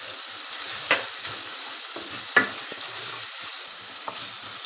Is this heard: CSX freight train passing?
no